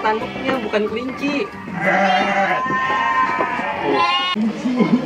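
Goats bleating loudly and repeatedly close by at a children's petting farm, wavering calls overlapping one another, with people talking in between.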